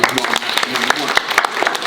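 Middle school students clap their hands in a school assembly, a ragged burst of claps from a crowd under a speaker's raised voice.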